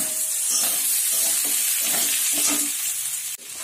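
Potatoes with spice mix frying in a pan, a steady loud sizzle with scraping stirring strokes throughout, ending in a brief drop and pause.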